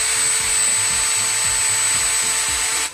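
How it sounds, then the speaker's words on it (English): A power drill whirs steadily up close, a high whine over a rhythmic grinding churn, cutting off abruptly at the end. "Power drill, turn it on, and it rotates"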